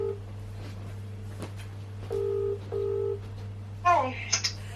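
A phone call rings twice in short, steady tone bursts over a constant low hum, followed by a brief voice as the line picks up.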